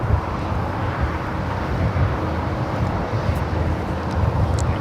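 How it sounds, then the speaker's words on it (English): An American Airlines Boeing 787 Dreamliner departing Los Angeles for Tokyo Haneda gives off a steady, rumbling engine roar at a distance, mixed with some wind buffeting. "We got that American Dreamliner heading to Tokyo Haneda."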